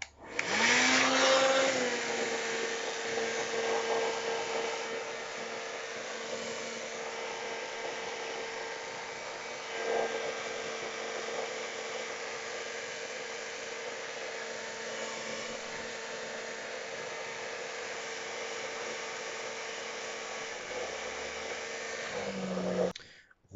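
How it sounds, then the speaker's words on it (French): A hair dryer blows dust out of a PS4 Slim console for the full stretch, a loud steady whine and rush with a brief surge when switched on and a dip near the end as it cuts off. "Mais je vais d'abord le faire au sèche-cheveux. Donc c'est parti, les gars. Donc ça va être un peu bruyant."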